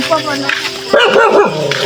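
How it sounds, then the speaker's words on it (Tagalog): A dog gives short whimpering yips and barks close by, mixed with a person's voice, while scouting up a mountain in Kalinga, Philippines. "Ah, may aso pa, uy."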